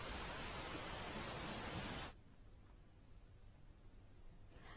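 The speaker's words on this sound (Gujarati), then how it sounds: "દક્ષિણ ગુજરાતમાં ધોધમાર વરસાદ પડી રહ્યો છે" Heavy rain pouring down in Bharuch, a loud, dense, even roar for about two seconds that then cuts to a much quieter background hiss.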